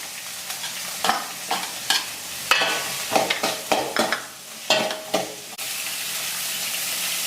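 Onion goes into a pan of frying green chillies and capsicum for a spicy bread sandwich, a close sizzle with repeated stirring scrapes and clatter, settling into a steady hiss at the end.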